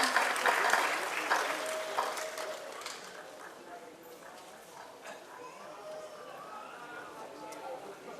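A large crowd claps steadily at the Garudan film audio launch. The applause is loudest at the start and eases off slowly. A dense patter of hands sounds throughout, with some voices faint beneath it.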